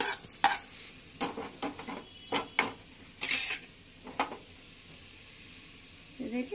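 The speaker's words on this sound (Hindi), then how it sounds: "देखिए सारी प्याज निकाल लेंगे हम, घी निचोड़ के जो हमने ऑयल डाला है निचोड़ के सबको निकाल लेंगे" Golden fried onions stirred and lifted out of hot ghee in a pan while cooking beef rogan josh: a run of separate scraping, stirring clinks and soft sizzles, close and moderately loud, with gaps of quiet between.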